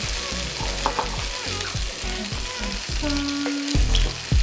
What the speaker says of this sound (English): we decided to saute some broccolini in olive oil and garlic